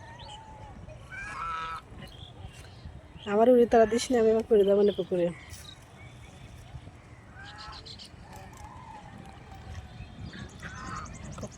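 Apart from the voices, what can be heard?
white domestic goose honking while bathing in pond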